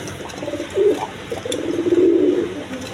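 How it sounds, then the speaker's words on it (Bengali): A pair of quality Mayna jack pigeons, a female and a male, coo close by in soft repeated low calls that swell and fade over a faint background hiss. "এখানে এক পেয়ার ময়না জাক কবুতর আছে দেখেন, কোয়ালিটি সম্পন্ন কবুতর"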